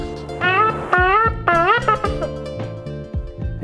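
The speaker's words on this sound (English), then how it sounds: "The second sound is the sound of shofarim." Shofar played for Rosh Hashanah, sounding the broken shevarim call as a series of short, bending horn blasts, loud and close with choppy rhythm.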